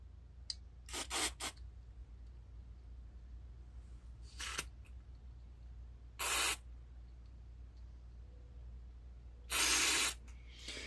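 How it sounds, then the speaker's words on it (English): Short hissing bursts of carburetor cleaner from an aerosol can onto a John Deere Z445 riding mower carburetor, two of them longer blasts, mixed with a few small clicks in an otherwise quiet space. "So I'm going to spray them with carb cleaners,"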